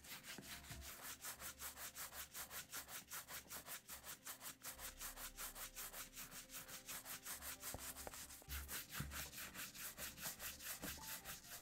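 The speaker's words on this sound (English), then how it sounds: "And then just start to brush once the Bic 4 is dry." Brush rubbed briskly across cream-treated leather shoes, a close, quiet series of rhythmic back-and-forth bristle strokes with a steady scrubbing pulse and no talk.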